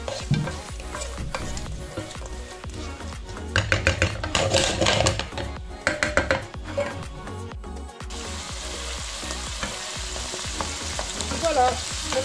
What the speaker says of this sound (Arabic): غادي ندير شويه ديال السوجا، نخلط كلشي ونخليهم يتشحر مزيان